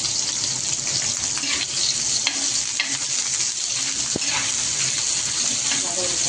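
Onions frying in hot oil with coconut, ginger and garlic for a spicy Maharashtrian brinjal curry, a loud continuous hiss and crackle with occasional stirring clinks, steady throughout.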